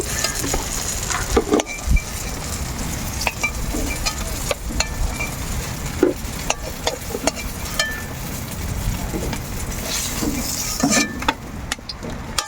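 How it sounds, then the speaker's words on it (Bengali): Eggplant slices coated in semolina and gram flour fry with a steady, loud sizzle in a pan, broken by occasional clinks and scrapes of a utensil against the metal. "এবার আমি বাকি বেগুনগুলো ভেজে নেব"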